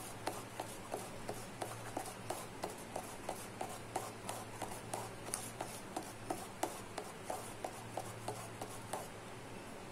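Homemade cake batter mixed in a bowl, heard as a soft, regular rhythmic scraping and rubbing of a utensil against the bowl, repeating about twice a second, quiet and close with no talk.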